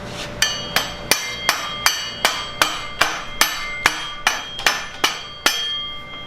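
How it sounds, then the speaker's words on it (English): Steady hammer blows ring out against metal, about a dozen sharp clanging strikes at an even pace, close and loud. "Can you use your hammer?"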